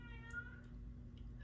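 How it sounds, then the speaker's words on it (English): A house cat yowls faintly in the background indoors, one drawn-out call followed by a few softer noises over a low steady hum. "Sorry if you can hear my cat yelling."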